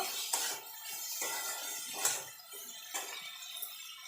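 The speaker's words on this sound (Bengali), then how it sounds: "এবার ভালো করে এটাকে একটু নাড়াচাড়া করে নেব।" A utensil scrapes and clinks against a pan while spiced potatoes seasoned with salt and a little turmeric are stirred, giving four or five quiet, evenly spaced bursts of metallic scraping with no voices.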